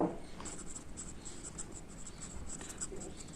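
Soft scratching of a pen moving across paper, a faint steady rasp of strokes continuing throughout, quiet and close.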